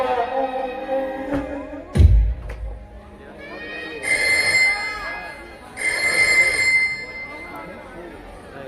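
A phone ringtone rings in two bursts, a melodic electronic tone near the start and again mid-clip, over a noisy indoor background with a loud knock and people talking.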